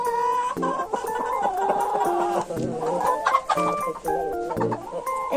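Several chickens cluck and squawk close by without pause, with busy overlapping calls rising and falling throughout.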